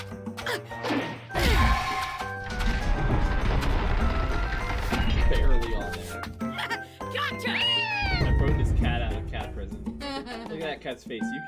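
A cartoon cat meows in the Naruto: Ultimate Ninja Storm video game, with short cries under busy game music, hits and swooshes while players talk over the action.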